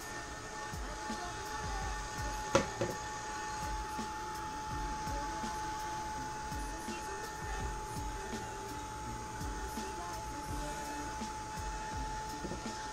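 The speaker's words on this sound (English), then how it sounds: "Again, I'm going to use my heat gun." Handheld heat gun blowing hot air over a decoupage wood-texture piece with an image transfer, a steady broadband whoosh with a constant motor hum held at an even level throughout, heard alone with no talking.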